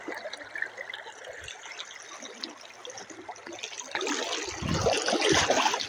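Rushing river water flows steadily and loudly, swelling stronger toward the end with splashing and churning close by, as people wade across.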